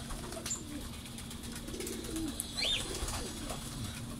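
A golden Teddy pigeon with a red beak coos softly amid steady background noise, a low rounded call with a faint higher chirp near the end.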